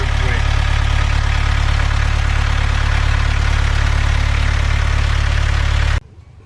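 A car engine runs at a steady idle, a loud, close, continuous low drone with a faint knocking texture, cut off abruptly near the end.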